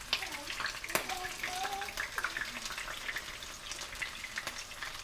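Battered clams fry in hot oil with a steady, faint crackling sizzle and scattered sharp pops, while a person's voice murmurs quietly underneath.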